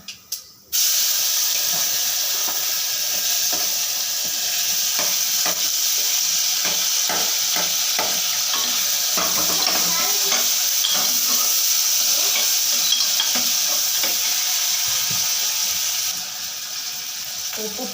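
Diced potato, onion and tomato fry with turmeric powder in hot oil, a loud, continuous close sizzle with stirring clatter running throughout, no voices.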